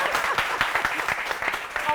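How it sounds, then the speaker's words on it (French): Audience at a live show in Senegal applauding a guest, rapid overlapping claps with crowd voices mixed in, fairly close and lively. "On doit l'applaudir."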